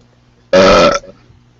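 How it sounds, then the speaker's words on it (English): A single loud, close burp lasting about half a second, abrupt and throaty, standing alone against near silence. "You think a burp is threatening?"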